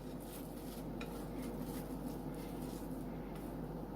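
Whipped cream and cream cheese being mixed together in a bowl for strawberry shortcake, a faint continuous stirring and scraping with light utensil taps over a steady low hum.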